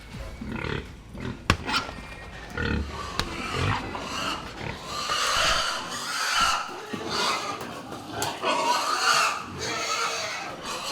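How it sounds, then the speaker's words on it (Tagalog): Pigs are driven from a pen up a corridor toward the killing floor of a slaughterhouse at night. Loud grunts, squeals and occasional screams mix with clanging knocks and shuffling, continuous and close. "trabaho niya ang pagpapanhik ng mga baboy mula sa kural patungo sa katayan"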